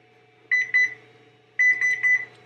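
Kitchen timer beeping during fall home cooking, two short electronic beeps followed by a pause and then three more, clear and close against a quiet background.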